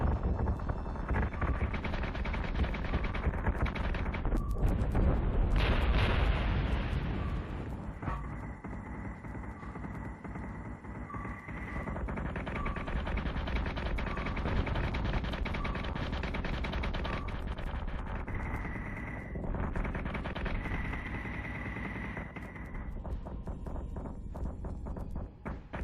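Gunfire from ships in the Battlestar Galactica Deadlock space combat game, loud sustained bursts of automatic firing layered with dense battle noise, rumbling impacts and repeating tonal alert beeps.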